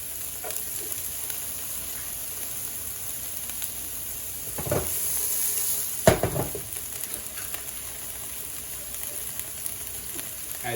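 Onion and tofu sizzle gently in a pan while sweating down for a vegan breakfast sandwich, a soft, steady frying hiss with a couple of brief louder crackles and stirring scrapes near the middle.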